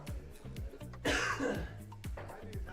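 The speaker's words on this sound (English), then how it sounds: "I'm coughing so much." Several quiet coughs and throat noises in quick succession, with faint voiced sounds between them, heard close but at low volume during a poker game.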